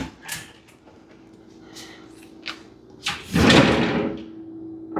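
Solid wood kitchen cabinet doors without soft-close hinges are handled in a house, with light knocks and taps and then a louder wooden thud as a door shuts, over a faint steady hum.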